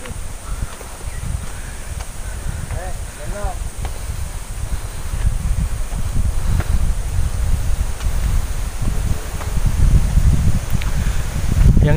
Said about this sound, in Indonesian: angin makin besar